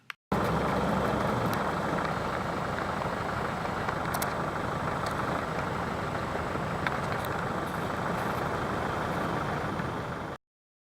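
A Land Rover drives on a gravel road and forest trail toward Toshka Lake, its engine giving a steady, loud, continuous drone with road rumble and no pauses throughout.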